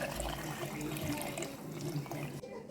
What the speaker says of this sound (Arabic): بعد كده هنزل بالمية السخنة بتاعتي